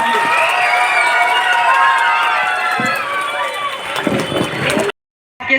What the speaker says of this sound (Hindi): एक दफा और जोरदार ताली बच्चों के लिए।